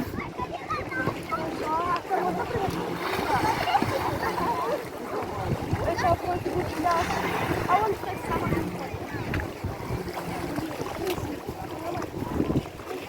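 Black Sea beach at Odesa with many people swimming, a busy wash of distant voices, splashing and wind over the water, steady throughout.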